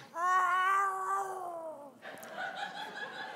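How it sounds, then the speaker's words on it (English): A cat meows twice in a kitchen, a long drawn-out yowl followed by a shorter, softer meow, fairly close and clear with no talking. "Is that a kitty I hear in the kitchen?"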